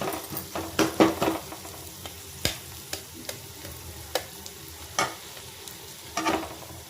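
Egg frying in a pan with onion and potato for egg bhujiya, a continuous close sizzle broken by repeated spatula scrapes and taps at an irregular rhythm, no talking.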